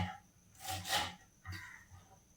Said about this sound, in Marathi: मोठी मोठी कोथिंबीर चिरून घ्यायची